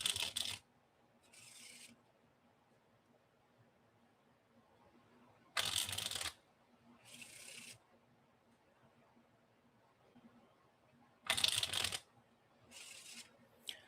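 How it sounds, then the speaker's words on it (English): Tarot cards being riffle-shuffled close by in short crisp bursts, repeated every few seconds with quiet pauses between. "let me do some preliminary shuffling and make sure that these cards"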